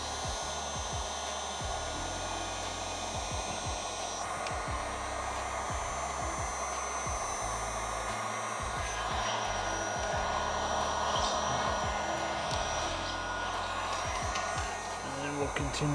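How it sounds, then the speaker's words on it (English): A heat gun blows continuously and loudly while post-heating paint protection film along a car fender, a steady whooshing roar with a faint buzz throughout. Someone speaks quietly under it. "Now we're going to post heat right along here."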